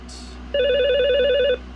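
A Mitel 5324 IP desk phone sounds one fast-paced electronic ringtone burst, a bright steady warbling tone about a second long, close and clear with a faint tone just before.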